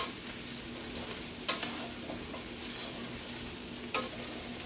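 Beef sizzles steadily in hot grease in a pan for crispy beef and broccoli, a continuous faint crackle broken by two sharp stirring scrapes, with no talking.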